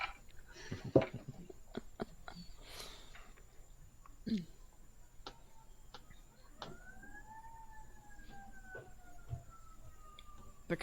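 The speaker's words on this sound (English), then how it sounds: "I mean, they're sirens." Sirens in a tabletop role-play session: a rising and falling tonal wail sweeps upward then slowly descends over the second half, fairly faint beneath scattered clicks, knocks and background noise.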